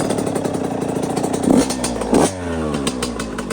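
A Yamaha YZ85 two-stroke dirt bike with VForce4R reeds and an FMF pipe with shorty silencer kicks into life and revs sharply a couple of times, then keeps running with a rough, buzzing rattle.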